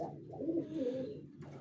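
Domestic pigeons give one soft, low, rolling coo, close by and alone.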